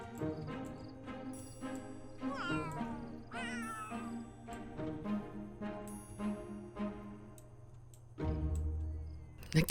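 Cats meow near a cat tower in a home, with repeated rising calls and a drawn-out caterwaul over a steady background hum, fairly close and moderately quiet.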